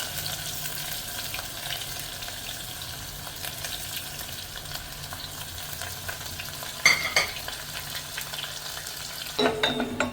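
Onion and cashew nuts fry for methi rice with a continuous close sizzle, plus a couple of louder stirring clatters toward the end.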